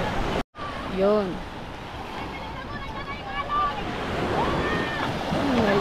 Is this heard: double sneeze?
no